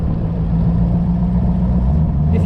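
A Pilgrim-built AC Cobra replica with a Rover V8 rumbles steadily up close, its deep low engine note holding at a near-constant idle-to-light-throttle level as it moves off, with no talk over it.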